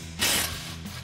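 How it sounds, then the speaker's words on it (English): An impact wrench fitted with an 18mm socket spins off the lower strut mounting nuts on a 2021-2024 Ford F-150, one short close burst of whirring rattle that fades quickly. "remove our two lower mounting nuts for our strut, again with our 18mm socket on our impact"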